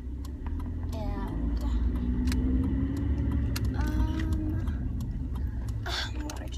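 A car drives along, heard from inside the cabin as a steady low road rumble with scattered light ticks and clicks, while someone talks over it.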